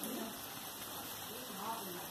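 Rain falling steadily outdoors at a relative's house during a holiday, near a yard with avocado, tangerine, lychee and lemon trees, heard as a continuous soft broadband hiss with faint voices in the background.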